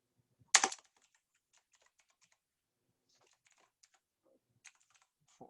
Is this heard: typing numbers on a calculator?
yes